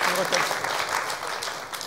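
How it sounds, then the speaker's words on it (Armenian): Audience applause following a comedy team's performance in a televised humor league semifinal, a steady dense clapping that fills the whole stretch at moderate loudness, with voices mixed in underneath. "Ծափարենք իսկապես բրավո գերազանց ելույթի, գերազանց կատարման, գերազանց որակի համար"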